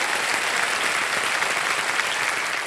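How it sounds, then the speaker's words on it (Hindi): The studio audience of the quiz show Kaun Banega Crorepati applauds with dense, steady clapping throughout, with no voices on top. "इनके लिए भी एक बार जोरदार तालियां बज जाए"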